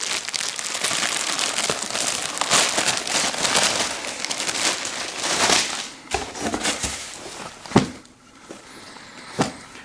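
A plastic bag wrapped around 5.11 Tactical Original cotton pants crinkles and rustles as it is handled, a loud, close, continuous crackling that breaks into a few sharper crunches toward the end.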